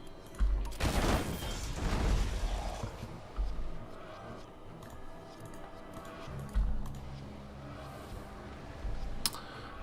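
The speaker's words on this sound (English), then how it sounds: "let's start shooting again" Gunfire in a naval battle video game: a loud burst of rapid shots near the start, then a few scattered heavier thumps and pops at lower level, with quiet ambient noise in between.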